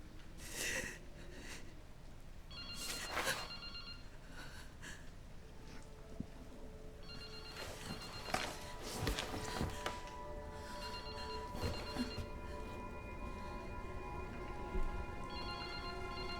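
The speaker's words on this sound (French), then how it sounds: "Comment ce téléphone peut-il encore marcher?" An old telephone rings in the Resident Evil Requiem video game, its repeated bell tones sounding through a dense, noisy game soundscape with breathing and other effects.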